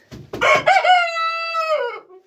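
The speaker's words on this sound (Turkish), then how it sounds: "bunun ötüşü etkileyici değil" A rooster crows once inside a chicken coop, a loud, close, drawn-out call that rises and then holds steady for about two seconds before trailing off. No other sound is heard.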